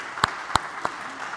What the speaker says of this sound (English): a round of applause then